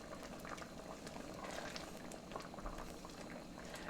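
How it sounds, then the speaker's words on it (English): A healthy gumbo roux simmering in a pot gives a steady, close bubbling and soft crackle that runs evenly throughout with no talk. "and just let it simmer."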